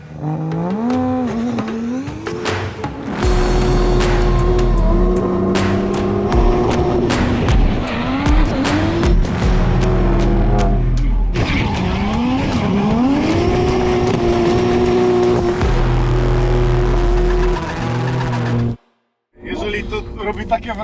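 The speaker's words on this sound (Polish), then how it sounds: "postaramy się nadążyć czterobutnym M3 Touring za GR86 Kuby Przygońskiego" A BMW M3 Competition Touring is driven hard behind a Toyota GR86, its engine roaring loud and near as revs climb and drop through shifts, with tyre squeal and a brief cut near the end, while people talk over it.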